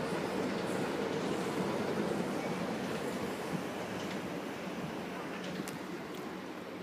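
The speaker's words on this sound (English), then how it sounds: "There's a Gatwick Express service." A Gatwick Express train, a Class 442 unit, passes through the platforms at Clapham Junction station with a steady, broad rumble and rush of wheels that fades slightly toward the end, with no voices.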